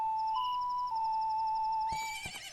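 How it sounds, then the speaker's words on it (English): Epona, the horse in Majora's Mask 3D, gives a single clear synthesized neigh with a long wavering whinny tone, followed by a short burst of snorting at the end, alone and close. "Riding a horse."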